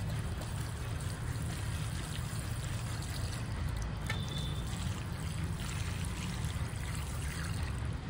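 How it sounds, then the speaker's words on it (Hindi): Water trickling steadily from a can or pot onto hanging basket plants in a garden, a soft continuous pour lasting throughout with a low background rumble. "टिके टिके पानी दे देवा"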